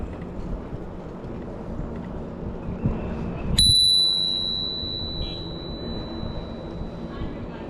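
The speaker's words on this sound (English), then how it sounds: "Here come some of these loud bikers." A bicycle bell rings once, bright and close, its tone lingering over outdoor street noise and faint rolling sounds.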